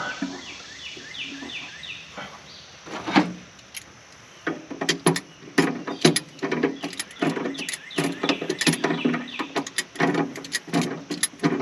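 Vice grips clank and clack against brake master cylinder parts in a garage, a run of sharp close metallic ticks and rattles growing busier after a quiet start, with no talking.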